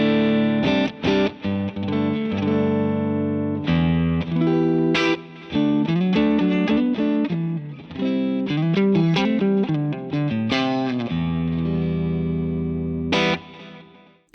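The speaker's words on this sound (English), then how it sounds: "So I've set the amp up clean at the moment" Electric guitar played through a Divided By 13 RSA23 amp on a clean setting, ringing chords and single notes with sustained tails and occasional brief gaps, loud and close with no voices.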